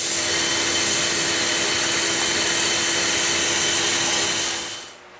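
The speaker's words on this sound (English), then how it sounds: "I'm going to go ahead and sand this part here just to finish it off" A wooden spurtle being power-sanded to a smooth finish: a steady, loud broadband whir with a faint hum holds evenly for about five seconds, then cuts off abruptly at the end.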